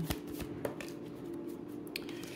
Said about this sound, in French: je tire une autre carte